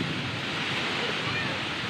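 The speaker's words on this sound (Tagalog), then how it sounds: "makitaan ang mabaskog nga pagbubo sang ulan kag mabaskog nga hangin" Loud, dense roar of strong wind and heavy pouring rain in Badiangan, Iloilo, Philippines, a continuous broadband rush with no breaks, close to the microphone.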